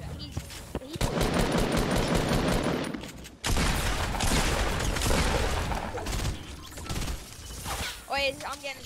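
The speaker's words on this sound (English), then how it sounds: "I'm getting shot at again." Gunfire in the video game Fortnite crackles in rapid, dense bursts with a brief drop near the middle, then picks up again; mechanical clicks and game effects mix in, loud and close, with a voice briefly audible near the end.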